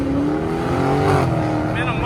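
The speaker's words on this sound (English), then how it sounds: "They're revving the engines and stuff." Muscle car engines rev at a car meet, a loud rising exhaust drone with pitch swells, heard beneath people talking nearby.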